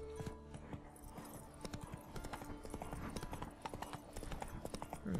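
Roach the horse trots along in The Witcher 3, with steady rhythmic hoof clip-clops on the ground throughout, moderately close and fairly quiet.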